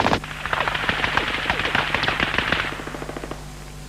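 A British Army GPMG general-purpose machine gun fires a loud, sustained automatic burst of rapid, evenly spaced shots that rings out for several seconds, then trails off into echoes.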